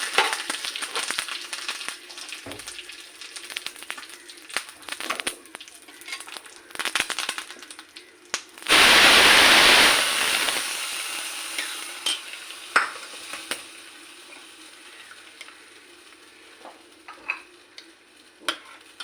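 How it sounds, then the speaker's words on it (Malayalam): Mustard seeds popping with dried red chillies and curry leaves tempering in hot oil for a sambar, heard as stirring and scraping with scattered crackles and one loud sizzling burst midway that fades back to sparse pops. "കടുക് പൊട്ടി നമുക്ക് ഉണക്കമുളക് ഇടാം. കറിവേപ്പില ഇടാം."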